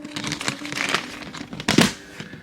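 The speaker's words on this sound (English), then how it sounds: "we put everything in plastic bags before we place them in here" Plastic bags crinkle and rustle in uneven handling bursts while inventory is packed into bins in a small business workspace, with the sharpest, loudest crackle near the end.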